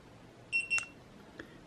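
Two quick electronic beeps from a Gitup Git2 wrist remote, bright and close, followed by a fainter click in a quiet room.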